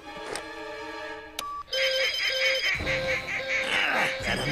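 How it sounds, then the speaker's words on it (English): An annoying telephone in the animated series Loonatics Unleashed rings in repeated electronic trills after a brief opening blip. It is loud and close, with busy cartoon sound effects around it. "An annoying phone!"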